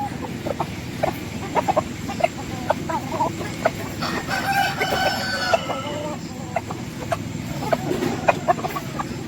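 A large flock of roosters in a farm garden keeps up continuous clucking with a clear crow midway, many birds calling near and far against a busy background.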